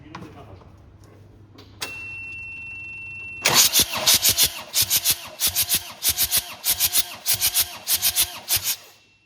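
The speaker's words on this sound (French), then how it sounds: "Je vais à mon contacteur de démarrage et je simule le démarrage" A diesel engine is turned over by its starter during a compression test, a steady whirring crank with a rapid run of rhythmic chugging pulses, loud and close, with a quieter hum before it.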